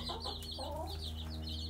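A Silkie hen, part of a flock of Silkie mothers with chicks, clucks softly in a short close run of low calls against steady coop background noise.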